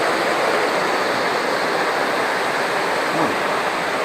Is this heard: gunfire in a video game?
no